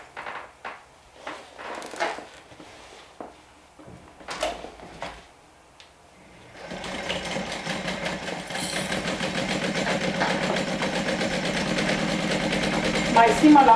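A sewing machine stitches a slip pocket onto fabric layers; after several seconds of soft handling noises and talk, the motor starts and runs in a steady, close, continuous whir to the end.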